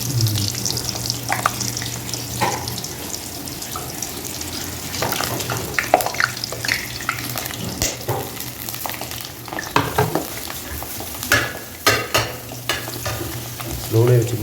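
Donuts sizzle steadily in hot oil with bursts of bubbling crackle, punctuated by scraping and clatter as they are stirred and flipped over, continuous and close throughout.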